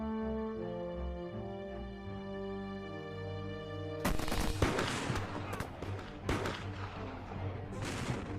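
Gunfire erupts in a dramatized battle in heavy fog: loud, close bursts of musket shots and volleys that break in suddenly over a sustained orchestral music bed and keep cracking irregularly to the end.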